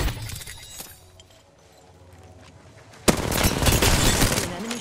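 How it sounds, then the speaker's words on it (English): Apex Legends gunfire: a quieter, sparse stretch with a few isolated cracks gives way to a sudden, loud, dense burst of rapid shots that continues to the end. "They're shooting at me."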